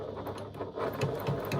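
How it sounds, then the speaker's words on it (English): A sewing machine stitches down a chalk line that splits a pocket piece into two pockets, giving a steady close mechanical whirring patter with a regular rhythm and no talk. "I'm stitching down the central chalk mark that I made"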